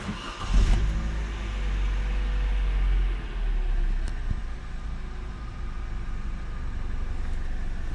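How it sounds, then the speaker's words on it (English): An Opel Corsa D 1.4 engine cranks and catches with a brief roar, then settles into a steady, even idle that runs on without interruption. "Now I'm going to start the engine."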